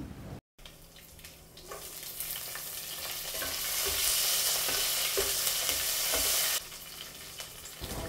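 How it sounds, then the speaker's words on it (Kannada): Fresh curry leaves fry in oil on a low flame for upma, a soft crackling sizzle swelling steadily louder with occasional stirring, then easing off near the end, with no talking. "ಚೆನ್ನಾಗಿ ಸಣ್ಣ ಉರಿಯಲ್ಲಿ ಫ್ರೈ ಮಾಡ್ಕೋಬೇಕು."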